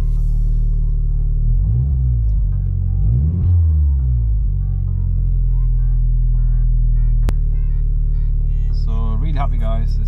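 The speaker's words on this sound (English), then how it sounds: "So the car is almost at full temp and seems to be running perfectly fine." A Toyota MR2 Turbo engine idles steadily at close to full operating temperature, a loud, continuous low rumble that holds even throughout, with a short sharp click partway through and brief faint voices near the end.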